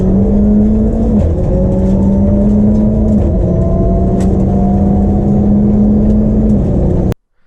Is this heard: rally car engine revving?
yes